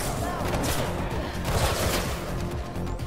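Sustained, dense gunfire from enemy gunners in Mirror's Edge Catalyst, a loud, unbroken clatter of rapid shots filling the whole stretch with no pauses.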